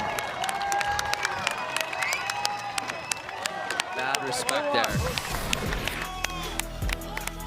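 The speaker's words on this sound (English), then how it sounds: "whole crowd is cheering one more" Crowd cheering and applauding at a women's skateboard vert best trick contest at X Games Ventura, a steady roar of voices and clapping under an announcer's nearby commentary.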